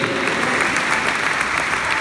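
A church congregation at an opening Mass applauds in a short, steady burst of clapping that lasts about two seconds.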